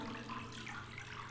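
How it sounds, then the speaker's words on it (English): A steady rushing noise like running water fills a live performance at the Suoja/Shelter Festival, faint but continuous and even, with no talk. "there is this noise, like water running"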